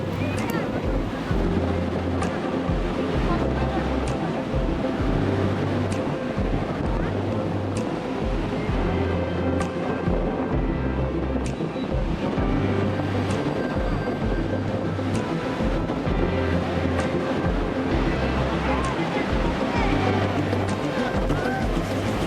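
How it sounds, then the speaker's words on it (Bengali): Continuous roar of sea surf at Puri beach with surging waves and steady wind noise throughout, loud and close, no clear talk. "পুরীর সমুদ্রের এই অসাধারণ ঢেউ বন্ধুরা দেখুন"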